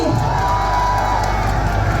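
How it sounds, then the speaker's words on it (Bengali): A crowd at a dance performance in Malaysia cheers and whoops for the choreographer, producing a dense, steady roar of voices and shouts throughout with no gaps. "রানা শেখের জন্য একটা জোরে করতালি।"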